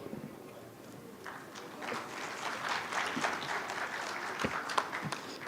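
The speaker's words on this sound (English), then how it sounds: "a big round of applause for the panelists and the moderator" A conference audience claps, the applause swelling from scattered hands into a steady, moderately loud round of many people in a hall.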